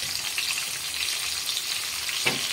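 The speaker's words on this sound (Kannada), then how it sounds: "ಈಗ ನೋಡ್ರಿ ಉಳ್ಳಾಗಡ್ಡಿ ನೋಡ್ರಿ ಒಂದ್ ಸ್ವಲ್ಪ ಕೆಂಪಾಗೋವರೆಗೆ ಎಣ್ಣೆಯಲ್ಲಿ ಫ್ರೈ ಮಾಡ್ಕೊಳ್ಳೋಣ್ರಿ." Long-cut slices of one large onion fry in oil in a pan, a steady bright sizzle throughout with a brief stirring scrape near the end; no talking.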